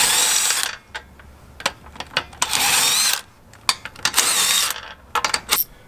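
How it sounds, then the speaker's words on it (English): An impact wrench loosens wheel lug nuts on an Alfa Romeo Stelvio, giving loud, close bursts of hammering rattle, several long runs and quick short blips, with quiet gaps in between. "now we're gonna go ahead and crack these lugs off and take the wheel off"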